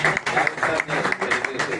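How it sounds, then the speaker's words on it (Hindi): Guests at a birthday celebration for an association president clap, a short, lively run of applause with voices mixed in, close and fairly loud. "हम जोरदार तालियां उनकी गड़गड़ाहट में मुबारकबाद देते हैं"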